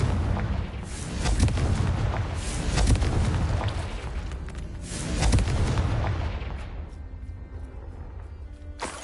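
A Confringo spell explosion in Hogwarts Legacy on PS5, heavy booming blasts rolling through a dense roar that swells twice, then fades into a lingering rumble.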